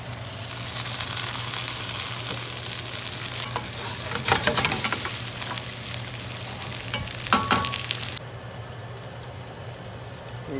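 Garlic and celery root fry in a pan with a loud, continuous sizzle and bursts of stirring, the hiss dropping to a quieter frying sound near the end.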